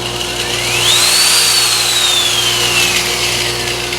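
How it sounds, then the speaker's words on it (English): A Milwaukee variable-speed angle grinder runs with a loud, steady whine whose pitch climbs, holds and then slowly drops as the speed changes, over a constant motor hum. "This is Milwaukee, same thing as the Sioux angle grinder. It's variable speed."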